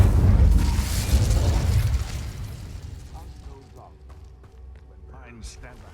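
A fiery Incendio spell cast in Hogwarts Legacy: a loud burst and roar that fades over a couple of seconds, followed by quieter scattered sounds.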